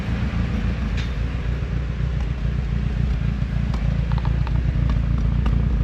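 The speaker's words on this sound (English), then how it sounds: "The exhaust sounds pretty good." A 1991 Honda engine with a Skunk2 aftermarket exhaust idles with a steady, loud rumble and deep, throaty exhaust tone throughout, constant and close by.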